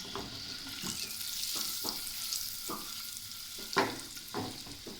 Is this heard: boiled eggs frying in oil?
yes